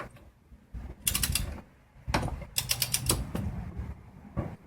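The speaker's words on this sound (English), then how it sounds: "you hear that click? That's the torque wrench telling me that it's done." A ratcheting torque wrench set to 135 foot-pounds working on the rear wheel hub of a 2005 Honda, close-up bursts of sharp ratchet clicks in several runs separated by short pauses.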